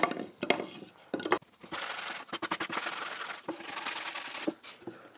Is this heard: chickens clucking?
no